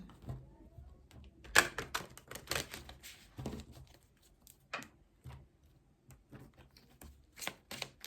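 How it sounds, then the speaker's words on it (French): Tarot card deck being shuffled by hand, a quiet close-up run of soft riffling flicks and irregular taps that comes in bursts with short pauses between them. "Je mélange les cartes."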